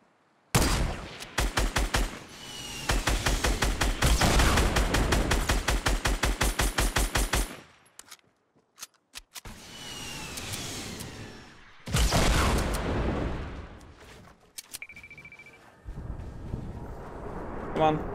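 Fortnite gunfire bursts out as rapid automatic shots in a long dense volley, followed by further loud bursts and scattered shots amid in-game building noise and effects.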